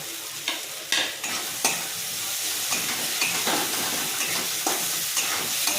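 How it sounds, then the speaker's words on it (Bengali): Grated coconut frying in a pan with chilli powder, a steady close sizzle broken by repeated scraping stirs of a spatula at an uneven rhythm. "ভালো করে ভেজে নিই"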